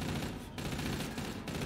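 Rapid automatic gunfire from a weapon in Call of Duty: Infinite Warfare zombies mode, loud and dense with a brief pause midway, over game background noise.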